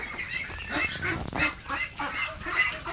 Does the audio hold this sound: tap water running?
no